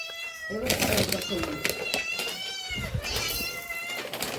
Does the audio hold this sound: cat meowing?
yes